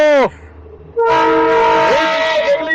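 The Darjeeling Himalayan Railway toy train's horn blares loudly, stops briefly, then sounds again in a long sustained, wavering hoot close by.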